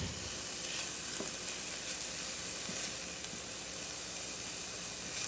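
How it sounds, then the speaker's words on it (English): Onions sautéing in olive oil in a pan, a steady close sizzle and hiss with faint stirring scrapes, continuous and even throughout, no voices. "We're just going to let them saute till they get translucent."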